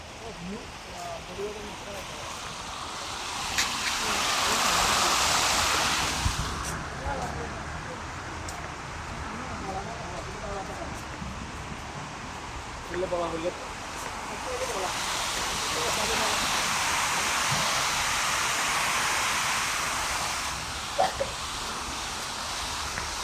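Sea waves at the shore wash in broad, hissing surges that swell and fade in two long rushes, with people talking nearby over the surf.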